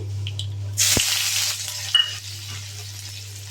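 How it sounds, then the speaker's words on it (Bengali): Chopped onions drop into hot oil with black cumin seeds in a wok, bursting into a loud, steady sizzle that holds close and continuous, with a brief clatter partway through. "পেঁয়াজ কুচি দিয়ে দিচ্ছি।"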